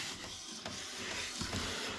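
An old HP Deskjet F2180 inkjet printer, refilled with replacement ink, runs a print job with a steady whirring, mechanical drone and a few soft clicks of the carriage, close and continuous throughout.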